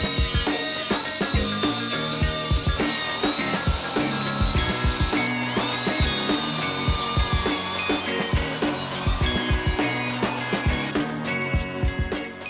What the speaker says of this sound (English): I grind back the galvanization so it's bare metal.